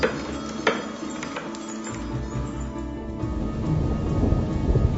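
Thunderstorm sound effect with a sharp crack of thunder near the start, then steady rain and a low rolling rumble that grows slightly louder toward the end.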